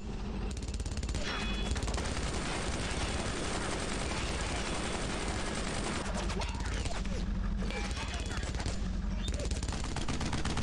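Machine gun fire in the World War II shooter Brothers in Arms: Road to Hill 30, dense, loud, continuous bursts of automatic gunfire from more than one weapon, with brief lulls around six and nine seconds.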